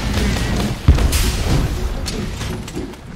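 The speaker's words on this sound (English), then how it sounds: "All I see there was explosions coming from you." Explosions in a multiplayer video game: one sharp, muffled boom rises early from a steady bed of game noise, followed by fainter rumbles.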